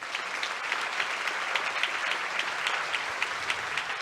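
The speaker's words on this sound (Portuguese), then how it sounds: "Você pode aplaudir o Senhor?" A church congregation applauds steadily, dense clapping sustained at an even level throughout.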